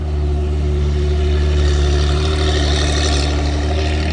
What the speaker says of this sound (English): The F80, this has got a new exhaust. It's straight piped.